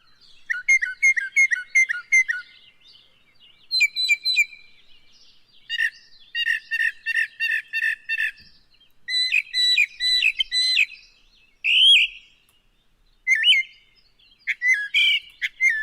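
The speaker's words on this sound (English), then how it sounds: "this is a bird that actually messes up our being able to identify other birds because it has such a wide variety of calls." A common Georgia bird known for a wide variety of calls sings clear, loud, repeated whistled phrases in rapid bursts separated by short pauses, alone against a quiet background.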